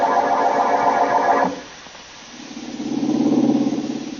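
A car engine while driving in an old radio drama, a steady mid-pitched motor hum that drops briefly and then swells again, fairly loud, with no voices.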